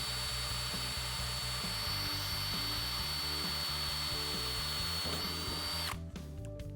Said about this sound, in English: the drill bit will start cutting exactly where you want it